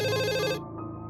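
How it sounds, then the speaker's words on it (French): A telephone bell rings loudly in a continuous electronic trill as a horror-story sound effect, then cuts off abruptly, leaving a faint tonal tail behind it. "le téléphone sonne de nouveau."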